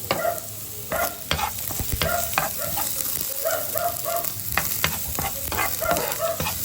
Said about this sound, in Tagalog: Ilagay natin yung ating sibuyas.